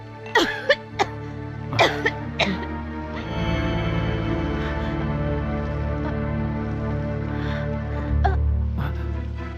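Several short, harsh coughs come in a quick cluster near the start, then a steady droning background with faint voices.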